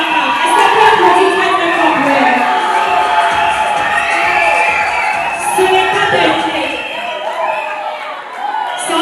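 A live audience at a Miss Maman Africa pageant cheers and whoops loudly and continuously, a dense wall of crowd noise with shouts rising above it throughout.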